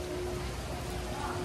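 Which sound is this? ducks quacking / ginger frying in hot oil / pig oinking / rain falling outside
rain falling outside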